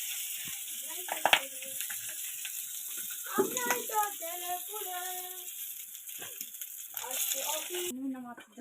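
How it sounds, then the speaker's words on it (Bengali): Chopped onion frying in oil in a home kitchen, a steady hiss of sizzling under frequent talk from an adult and a child, with occasional rattles and stirring. "কুচনো পেঁয়াজ তেলের মধ্যে দিয়ে দিলাম"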